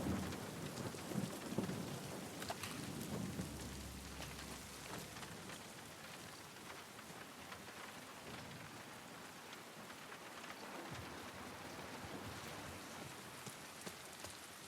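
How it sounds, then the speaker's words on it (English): Thunderstorm in The Last of Us Part II, steady heavy rain hissing throughout with deep rolling thunder rumbling early on and again later. "That lightning is super loud."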